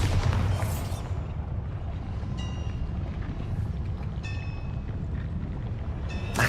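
A Bombarda spell explosion in Hogwarts Legacy bursts with a loud, broad rumble that lingers as sustained roaring noise, followed by several sharp metallic ringing accents over a few seconds.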